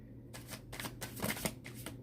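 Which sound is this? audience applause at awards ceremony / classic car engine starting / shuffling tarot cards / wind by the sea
shuffling tarot cards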